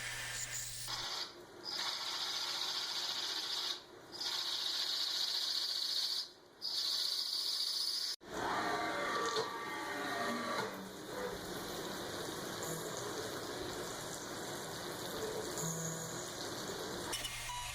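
A milling machine roughs out a bronze fidget spinner with a 1/2 inch end mill, producing a steady, loud high-pitched cutting whine broken by a few brief gaps, followed by a lower, rougher running sound.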